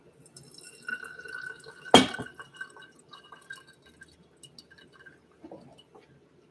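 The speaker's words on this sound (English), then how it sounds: "We'll preheat our filter," Hot water poured through a Hario V60 paper filter and brewer into a cup to preheat them, a soft trickling splash with one sharp pour burst near the start, then quieter dripping.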